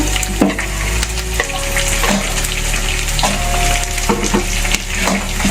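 Cut onions drop into hot oil with fried curry leaves for chitranna, South Indian lemon-style rice, setting off a loud, steady close sizzle and frying hiss with occasional stirring scrapes.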